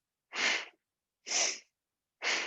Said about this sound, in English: you want to make sure that you're breathing like a bellows